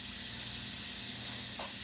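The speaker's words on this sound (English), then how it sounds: "I say that as I'm sitting here spraying without a mask." Spray paint hisses steadily onto a guitar body, a continuous close airy spray with slight swells in loudness.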